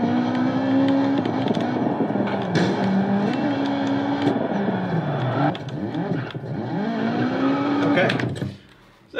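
A race car engine roars in a racing video game, revving and shifting through gears with rising and falling pitch and faint tire noise, loud and continuous before dropping away near the end.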